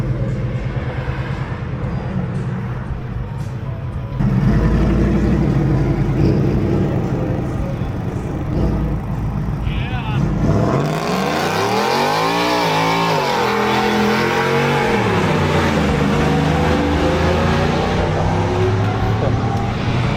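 Car accelerating at a cars and coffee meet, likely a 1000 hp Pontiac G8, with a loud engine roar rising and sweeping in pitch as it pulls away, over crowd chatter and talking.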